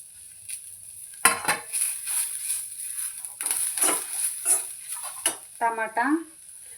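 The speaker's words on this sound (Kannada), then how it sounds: "ಹಾಗಾಗಿ ಫ್ರೈ ಮಾಡ್ಕೊಳತ್ತೀನಿ ಕೊಬ್ಬರಿನೂ ಹಾಕ್ತೀನಿ ಇದಕ್ಕೆ" Grated coconut fries in a pan for sprouted-bean sambar, a faint sizzle broken by scraping stirs and clanks of a spatula against the pan, with a voice talking between them.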